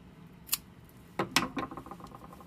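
Scissors snip through crochet yarn while finishing a tiny Valentine's heart: one quick sharp snip, then a short cluster of closer blade snips and rustles, alone and close.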